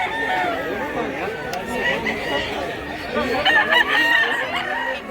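A white rooster for sale at a market in Mantalungon, Barili, Cebu, crows amid a busy background of other chickens clucking and people chattering nearby.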